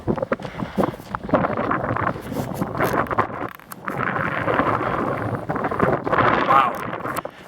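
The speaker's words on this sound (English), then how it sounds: "It's so windy out" Strong wind roars and rumbles against the microphone almost throughout, with gusts rising and falling and a brief lull in the middle.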